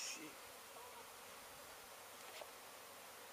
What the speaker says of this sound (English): It's a bucket full of bees